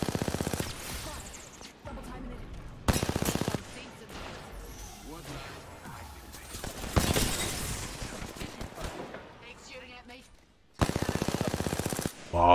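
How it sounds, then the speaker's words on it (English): Loud automatic gunfire in Apex Legends comes in several sharp bursts, under a steady bed of game sound. "Wow, the recoil on that gun is fucking insane."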